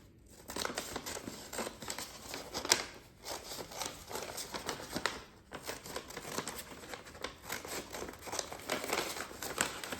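Scissors cut through aluminum foil and brown paper for a craft crown, giving quiet, steady crinkling and snipping with small rustles and no talking.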